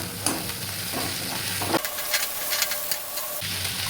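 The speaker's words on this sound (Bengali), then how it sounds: "সব দিয়ে মশলাটা খুব ভালো করে ভেজে নেব" Spice masala with chopped chillies frying in a pan, a close, steady sizzle broken by scraping stirs, with no talking.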